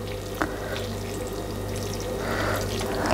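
Homemade stock is poured over chicken, rice and cumin seeds in a cooking pot, a steady near liquid stream with a low constant hum beneath and a faint knock early on.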